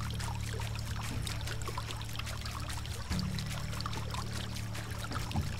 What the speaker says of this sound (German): Aber das Wasser geplätschert, ne?